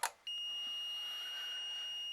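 A steady, high-pitched electronic beep from a spa power board under repair sounds continuously after a brief click, holding one tone without interruption.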